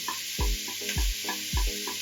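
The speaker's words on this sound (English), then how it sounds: "we will continue to sear them for a little bit" Ingredients for a Romanian winter soup searing in a pot, with a steady close sizzle broken by four evenly spaced low knocks of a spoon or spatula stirring, no voices.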